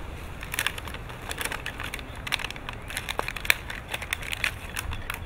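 Soft crunching and crackling come in short, irregular bursts as the outer layer of a tomato starter plant's root pot is cut away, close by and quiet, with no talk.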